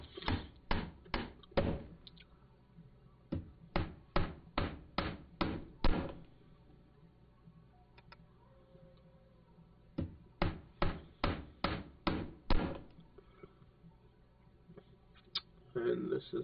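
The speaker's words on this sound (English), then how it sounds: "Hammering" Repeated hammering while building a structure in Wurm Unlimited: rapid bursts of sharp blows, about six or seven strikes per burst, three bursts separated by short pauses, loud and close.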